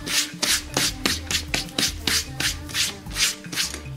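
PSOne controller joysticks salvaged from a dump are scrubbed clean, producing quick, regular rubbing strokes in a steady back-and-forth rhythm, close and fairly loud.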